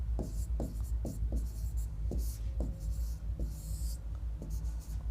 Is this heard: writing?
yes